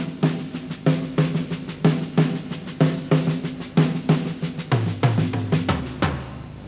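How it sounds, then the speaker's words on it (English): Drums play a double paradiddle as a steady, even run of close, punchy stick strokes in repeating groups with regular accents, with a tom-like low tone rolling in near the end and no talking. "Double paradiddle is this."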